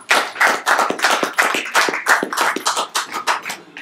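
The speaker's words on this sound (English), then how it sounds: "I always like to get a bit of a clap at the beginning" Audience at a club meeting applauding a visiting speaker, a steady burst of many hands clapping close and loud for nearly four seconds, with no talk over it.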